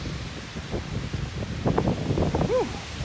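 Steady wind roars and buffets the microphone outdoors in a valley on a winter mountain hike in the Kananaskis, Canadian Rockies, a rough, continuous rumble with gusty swells and a faint tonal whine near the end.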